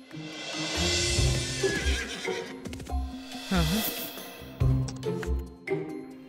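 A horse jumping over a wall gives several loud, close whinnies with rising and falling pitch, mixed with a few hoof thuds and scuffles, while a voice speaks briefly in the background.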